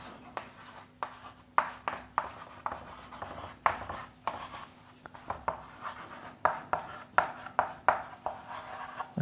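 Chalk tapping and scraping across a board as a chemical name is written during an organic chemistry lesson, a steady series of short, crisp strokes close by with a faint steady hum beneath.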